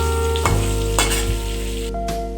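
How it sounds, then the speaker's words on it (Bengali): Eggplant pieces fry and are stirred in a pan over a gas flame, producing a loud, constant sizzle with brief scraping stirs, and no voices. "যতক্ষণ না লালচে লালচে করে ভাজা হচ্ছে ততক্ষণ আমি বেগুনটাকে নেড়ে চেড়ে ভাজতে থাকবো।"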